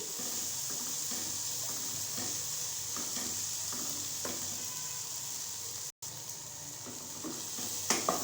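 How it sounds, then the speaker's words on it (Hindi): Chana and spices fry in a pot with a soft, steady sizzle, joined by occasional stirring scrapes and a few clinks, heard close and quiet with no talking. "हमें इन सब चीज़ों को भूनते हुए 1 मिनट हुआ है।"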